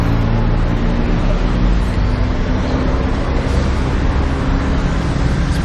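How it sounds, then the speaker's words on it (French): Gridlocked traffic on a busy main road in Bangkok makes a dense, constant roar of engines and tyres, loud and close throughout, with no talking. "Vous voulez voir la circulation à Bangkok, les bouchons que ça fait?"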